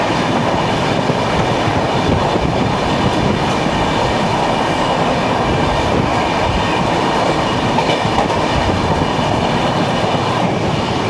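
The Coimbatore–Hisar Express rolls past on Indian rails with a loud, steady roar and a continuous clickety-clack of wheels over rail joints, unbroken for the whole stretch.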